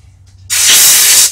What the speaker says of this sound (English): I like to just spray it out with some compressed air.